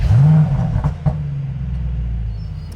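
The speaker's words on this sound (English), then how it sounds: "before we drive, it's important that you hear what the V8 sounds like in its final iteration" A Mercedes-AMG E63 V8 fires up close by, with a sharp starter whir and a loud flare of revs that settle into a deep, rumbling, slightly burbly idle.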